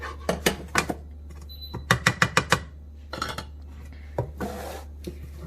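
Ground turkey mixture for mini turkey rolls being mixed in a bowl, heard as a series of sharp clinks and scrapes of a utensil against the bowl in quick bursts, close and fairly loud, over a steady low hum.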